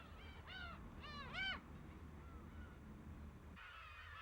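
Black-tailed gulls in a flock on an island off Japan, giving a few harsh, rising-and-falling calls in quick bursts early on. Fainter calls follow against quiet background noise.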